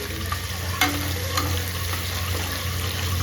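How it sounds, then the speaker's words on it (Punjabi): Chopped vegetables go into hot oil for a tarka, producing a steady close sizzle with a few light stirring clicks over a low background hum, no speech. "ਤੜਕਾ ਲਾ ਰਹੇ ਆ"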